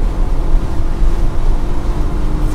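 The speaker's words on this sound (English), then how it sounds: "Those ISFs in front are maximizing the V8 power" Lexus IS F cars with V8 engines on a parade lap at Sebring International Raceway, a steady loud engine roar with wind buffeting the microphone.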